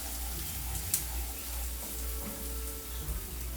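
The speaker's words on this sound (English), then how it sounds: "I'm going to saute these onions" Chopped onions sauté in a generous amount of oil in a pan on medium heat, giving a steady close sizzle with faint crackle and an occasional stir, no voices.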